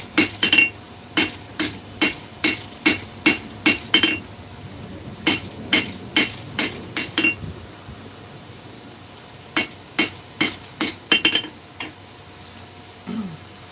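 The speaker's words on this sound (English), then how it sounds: "Coming back using light blows, kind of try to clean up the face." Light hammer blows strike a freshly forged hammer head to clean up its face: crisp metallic taps in steady runs of about one per half second, close and ringing, pausing for a few seconds before a second quicker burst.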